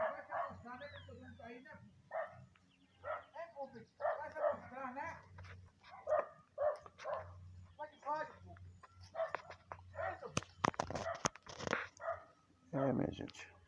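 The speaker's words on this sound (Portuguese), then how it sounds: "Cachorro." Outdoors by a freshly sown corn field, a dog barks and yips repeatedly in quick uneven bursts, fairly close and loud, with some whimpering mixed in and a few sharp clattering knocks near the end.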